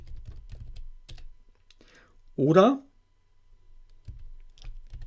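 Typing on a computer keyboard: close, soft clicks come in short bursts, with a single brief spoken word in the middle.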